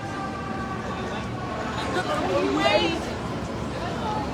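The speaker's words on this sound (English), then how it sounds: "I hear the fire engines." Distant fire engine sirens wail and rise in pitch, faint beneath street noise and nearby voices talking.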